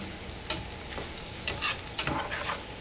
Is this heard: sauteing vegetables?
yes